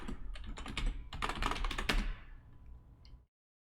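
A password is typed on a computer keyboard, a quick close burst of crisp key clicks that slows to a few scattered taps before stopping.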